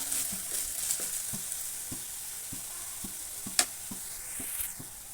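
Fennel and cumin seeds frying in oil over a low flame, a soft steady sizzle broken by regular scraping stirs about every half second, plus one brief sharp clink near the end.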